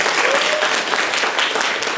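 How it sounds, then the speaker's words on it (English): An audience at an evening community event applauds steadily, dense clapping sustained throughout at even loudness, fairly close, with no clear voices standing out. "everybody can give yourself a hand clap"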